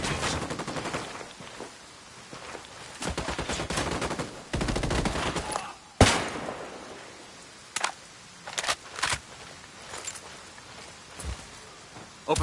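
Bursts of automatic gunfire and single shots in a Ghost Recon Wildlands firefight, loud rapid volleys early on, then a sharp blast and scattered isolated shots with pauses between.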